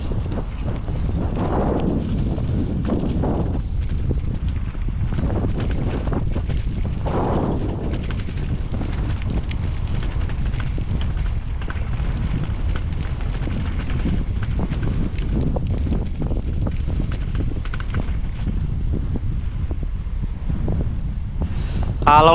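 Strong wind gusts buffet the microphone outdoors in a quiet Japanese village, a steady broadband roar with swelling surges throughout and no speech.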